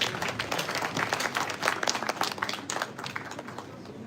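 An audience at a university gathering claps to welcome a speaker to the stage. Lively, dense applause with distinct individual claps, loud and steady, tapering a little toward the end.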